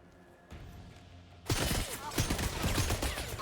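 In a James Bond video game, gunfire erupts after a quiet moment: a rapid burst of shots aimed at pipes, loud and continuous, over game ambience.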